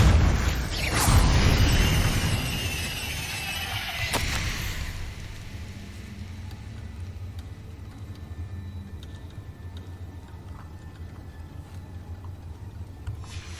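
An explosive blast from a Confringo spell in Hogwarts Legacy bursts loudly at the start and rumbles out over about four seconds. A sharper crack follows, then the sound fades to a low, steady ambience with no voices.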